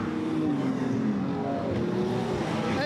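NZ stock cars roar past on a race track, a continuous loud engine drone with no let-up, steady and close throughout.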